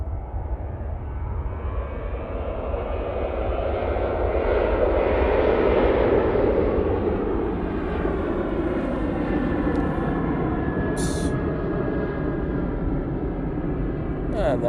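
Ryanair airliner on its takeoff roll at Manchester Airport bound for Dublin, a powerful continuous jet roar swelling and then easing over several seconds, loud and near without talk.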